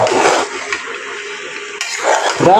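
Mutton spice mixture is stirred and fried in a pot, giving a loud, close, continuous scraping and hissing sizzle that briefly eases midway before surging again, with no voices.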